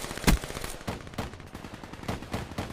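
A Vesper automatic gun firing in a video game, a loud opening shot followed by a steady stream of rapid, evenly spaced muffled bursts.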